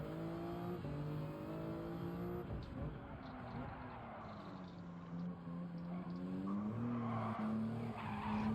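Tires squealing in a long wavering skid from a car in the racing game Gran Turismo 7, sliding pitch rising and falling over engine drone, loud and continuous with no pause.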